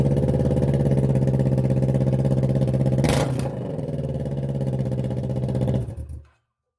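A Kawasaki Z650 motorcycle fitted with an aftermarket Amazon muffler idles with a loud, even, throbbing rumble nearby, gives one quick rev midway, then settles and cuts off abruptly.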